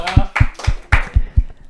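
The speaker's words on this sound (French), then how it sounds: "Applaudissements." Applause during a live stream: about seven crisp hand claps in a steady, quick rhythm, close and fairly loud, over in under two seconds.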